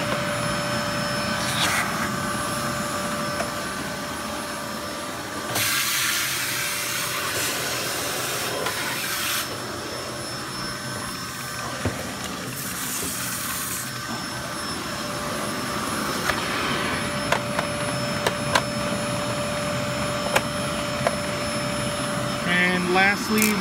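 A Hoover Z700 upright vacuum runs with its crevice tool, a steady close whine and airy hiss that surges louder in a few bursts, with clicks and knocks near the end.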